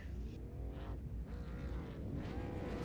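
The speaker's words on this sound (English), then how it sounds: "The revs rise for the split 2 of the V8 SCOPS Online Premier Series here at Mosport" V8 race car engines revving together at the start of an iRacing online series race at Mosport, a loud, continuous dense engine drone with rising and falling revs.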